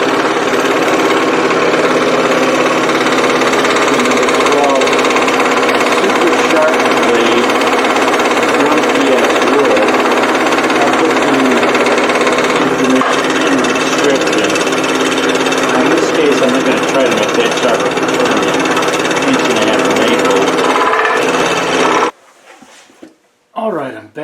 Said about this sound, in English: That way they're much smaller, they're easier to work with at the scroll saw.